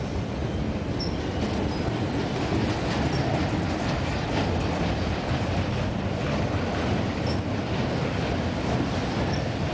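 A train rolls past on the rails nearby while taking a siding, giving a steady, loud rumble with faint clickety-clack and occasional light wheel squeals throughout.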